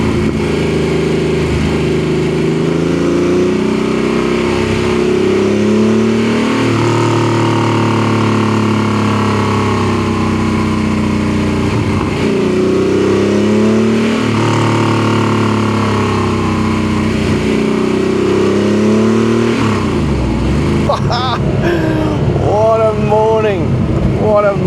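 An air-cooled Porsche 964 911 fitted with a Sharkwerks exhaust drives along a mountain road with a loud, continuous flat-six drone that rises and falls through repeated gear changes, and a brief rev at the end.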